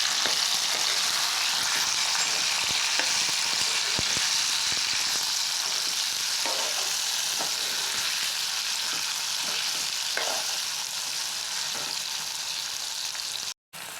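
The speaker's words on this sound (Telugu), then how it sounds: "చక్కగా దొండకాయ ముక్కలు ఫ్రై చేసుకోవాలి" Ivy gourd (dondakaya) pieces frying in a pan for a masala curry, a steady close sizzle throughout with occasional soft stirring clicks, no voices.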